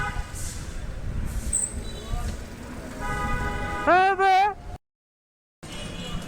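Car horns honk amid heavy city street traffic, with road noise and passing vehicles throughout and a couple of short, close horn blasts near the end, followed by a brief dropout; voices are also present.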